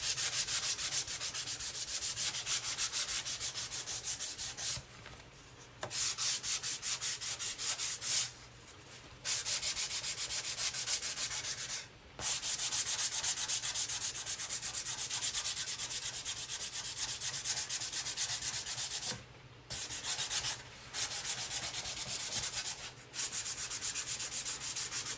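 Sandpaper rubbing steadily over a painted wooden surface, a continuous close scratchy rasp broken by several short pauses, with no talking.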